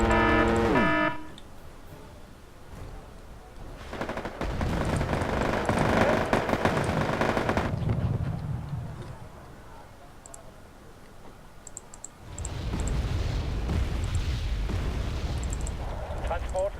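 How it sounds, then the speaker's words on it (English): Artillery in the video game AirLand Battle rumbles through as long stretches of heavy booming and crackling blasts, with quieter lulls between them. "Oh, that artillery."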